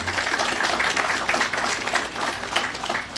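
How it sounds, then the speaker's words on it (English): Audience applause at a station grand re-opening ribbon-cutting event, a dense, steady wash of many hands clapping at close range for the whole stretch without pause. "let's give Fran O'Connor a big round of applause"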